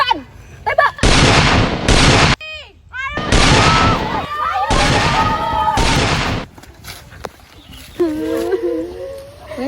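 Gunfire in an Indonesian independence short film: several long, loud bursts of shots fill most of the stretch, separated by brief gaps, with a few short voice sounds in the quieter moments.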